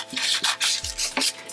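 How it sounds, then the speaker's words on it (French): Scissors cut a paper strip in a series of short, close snips and rasping strokes, several crisp cuts spaced irregularly, with no talking. "Et à l'aide du ciseau, vous allez découper votre bande."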